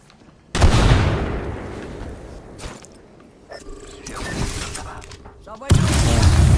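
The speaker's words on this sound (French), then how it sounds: "La petite grenade." A grenade goes off in the battle game Apex Legends with a sudden loud boom, then a stretch of gunfire and mechanical in-game noises, and another heavy blast near the end.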